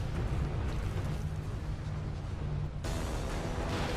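Sci-fi shooter action from Outriders rumbles with continuous heavy gunfire and explosive bursts, a dense loud barrage that briefly dips before a sharp blast renews it.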